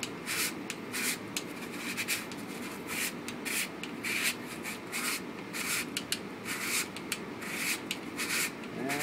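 A part inside a Briggs and Stratton 2HP engine is spun by hand, making a dry, scratchy rubbing that repeats in quick uneven strokes. The sound is close and quiet, with no speech.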